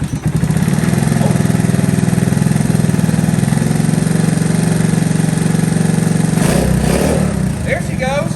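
A 1982 Honda ATC110 three-wheeler engine fires up and runs at a loud, steady putter close by, with a voice briefly heard near the end.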